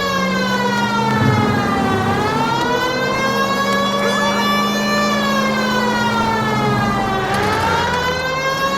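A police car siren from the video game L.A. Noire wails steadily and loudly throughout, its rising and falling pitch sweeping slowly, with engine and road noise underneath.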